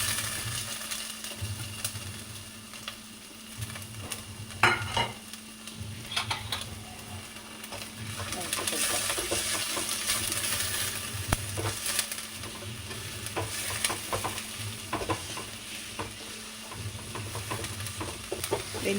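Onion sizzles in hot oil in a pan for a home-style chicken curry while a utensil stirs it, with scraping strokes and clinks over a steady frying hiss and no voices.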